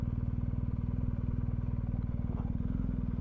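A BMW GS1250 motorcycle idles close by with a steady, throbbing engine pulse while the bike is turned around on a roadside stop in the Exe Valley, the rumble holding even throughout.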